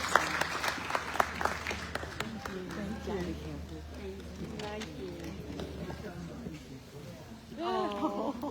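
Audience applause at a peace gathering in a church, a moderate round of clapping that thins out, with voices talking and a few cheers over it.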